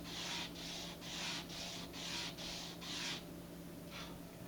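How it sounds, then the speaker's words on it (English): Sandpaper rubs back and forth against an Estes model rocket to take off a burr, about seven quick even strokes, then a pause and one last short pass, close and soft over low background hum. "I'm going to grab a big piece of sandpaper and just very carefully, because it's a small section, just go back and forth a couple times."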